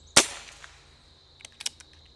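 A Benjamin Cayden air rifle fires one sharp, close crack, followed by a quiet pause and a few faint clicks as it is handled.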